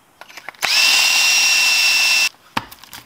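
A power drill spins up with a sharp whine to trim .223 brass cases, holding a steady high-pitched drone for under two seconds before stopping, surrounded by close metallic clicks and handling taps.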